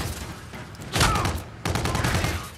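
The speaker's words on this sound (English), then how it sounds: "Who just shot?" Gunfire in a hardcore team deathmatch of Call of Duty: Infinite Warfare, heard as two loud bursts about half a second apart over a steady game background, with no talking in between.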